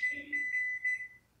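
A kitchen timer started while canning diced tomatoes gives a short run of high, thin electronic beeps, close and fairly quiet, with no talking.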